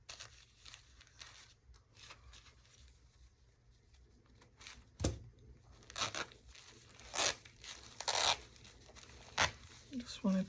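Plastic wrap being peeled and ripped off fabric during an image transfer, a series of short crinkling, tearing bursts scattered irregularly amid a person talking close by.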